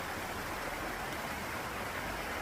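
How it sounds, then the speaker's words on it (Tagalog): A small waterfall with little water flowing, giving a steady, even broadband rush with no breaks, fairly quiet and heard on its own. "See the waterfalls. Water is little now."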